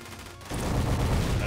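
Rapid weapon fire in the Raiden V shoot-'em-up video game starts abruptly partway through, a dense continuous burst of blasts and explosions that stays loud to the end.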